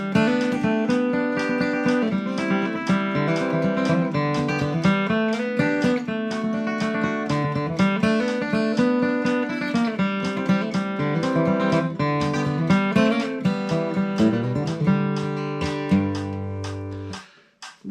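A bluegrass kickoff melody in a fast jam setting, played as a dense, continuous run of quick picked notes at a steady loud level. The line closes on sustained notes that cut off near the end, with no voices.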